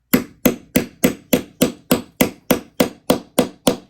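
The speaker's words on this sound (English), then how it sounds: "And then we're just going to hammer." Twelve sharp, evenly spaced hammer blows strike a metal snap fastener at a steady rhythm, close and loud, with no talking.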